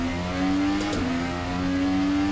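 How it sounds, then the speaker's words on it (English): A Dallara IR18 IndyCar engine, driven in rFactor 2 at Long Beach, holds a steady loud whine, dips for a quick upshift midway, then settles back into a constant hum. "I think it's just known as IndyCar in rFactor 2."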